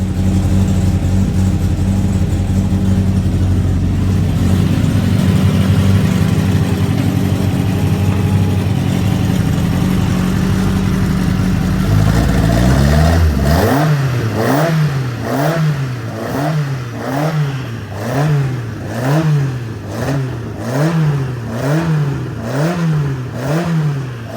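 A 1200cc Hillman Imp car engine runs loud and steady on a hub dyno, then is revved repeatedly in rising and falling surges.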